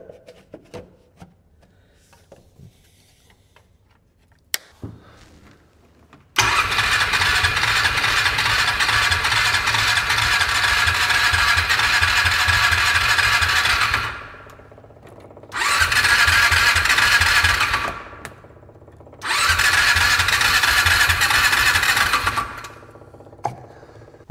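A small engine that was just fitted with a new air filter cranks once, then catches and runs loud and steady for several seconds. It cuts out, restarts twice in shorter runs with gaps between, and no one speaks.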